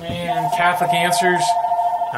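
A telephone rings with a steady electronic ringtone that sounds throughout, while a person keeps talking over it.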